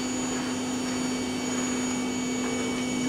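A full-size household vacuum cleaner runs steadily and loudly from start to finish, a constant motor whine with a strong steady hum and broadband airflow noise, close by and with no talking.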